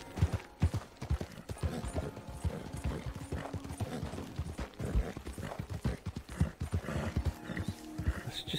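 Steady horse hooves clip-clop at a trotting rhythm in Red Dead Redemption 2 Online, with an occasional snort and faint mechanical background.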